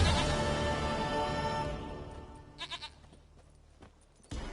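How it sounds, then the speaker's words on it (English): A goat in The Witcher 3 bleats twice in quick succession at moderate loudness, preceded by a fading tonal game sound and followed by a few soft clicks, with no talking. "Goat of mine, dearest, sweetest goat."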